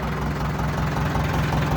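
A heavy diesel Swaraj 575 tractor fitted with aircraft tyres idles steadily nearby, a low, even rumble with a faint knocking pulse throughout.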